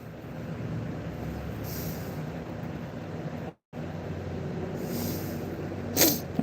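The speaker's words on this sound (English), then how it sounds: "I'm so sorry if you can hear me sniffling." A person sniffling a few times during an acrylic nail session, with short soft bursts of nasal breath near 2, 5 and 6 seconds over a steady low background hiss.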